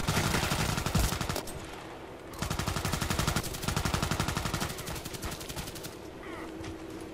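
Rapid bursts of gunfire from a shotgun in Contract Wars, loud and close, in repeated rattling volleys separated by short pauses, with no talking.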